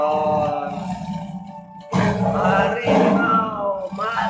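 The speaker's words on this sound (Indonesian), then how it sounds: "Oh, ringtone setan macan, setan harimau" A tiger's roar played as a phone ringtone: deep, rough, drawn-out roars with growling grunts, loud and close, repeating in several bursts separated by short pauses.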